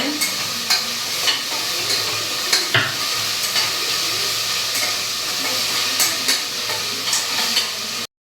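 Ginger garlic paste and onions being sautéed in a pan, a steady close sizzle and hiss with repeated stirring scrapes and clinks throughout, no voices.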